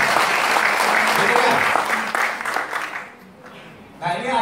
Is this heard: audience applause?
yes